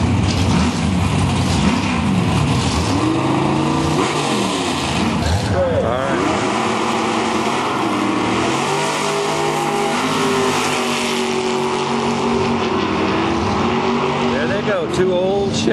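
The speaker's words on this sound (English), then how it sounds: "Here's what I like to see, a nice old Nova with a nice big blower on it." A drag strip at an NHRA national event in Oregon, where an old Chevy Nova with a big supercharger roars past in a sustained loud engine howl that shifts pitch as it accelerates, with continuous heavy mechanical noise.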